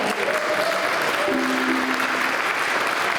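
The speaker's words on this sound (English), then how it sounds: "Give him a round of applause for being my fella." Audience applause at a live folk concert in Milwaukee: steady dense clapping from a crowd throughout, with brief faint tones and a voice underneath.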